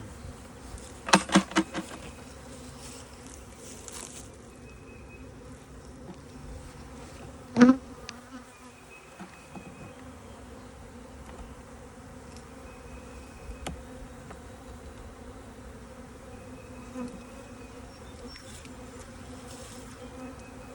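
Honeybees buzzing in an opened spring hive, a continuous low drone from many bees with a few sharp knocks and clicks of frames being handled early on, no voices.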